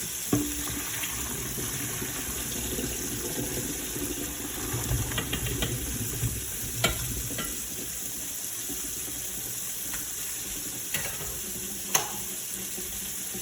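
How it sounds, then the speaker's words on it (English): Boiled potatoes tipped into a kitchen sink to drain, a steady rush of running water and spattering with a few faint clinks, moderately close with no talk. "drain our potatoes."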